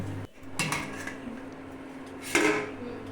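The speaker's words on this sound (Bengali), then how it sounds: "এরপর ঢাকা দিয়ে দেবো কিছুক্ষণের জন্য" A metal lid goes onto a pot of mutton curry, with two quiet clinks of metal on metal and faint kitchen sounds in between.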